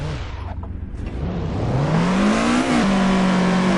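A car engine in an online drift racing game revs up steadily, the rising whine climbing loud and close before shifting gear and holding a strong, sustained roar.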